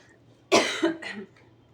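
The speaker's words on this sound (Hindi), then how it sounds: "सॉरी, खांसी हो गई।" A single close, sharp cough breaks out of near silence, trailing into a short second rasp.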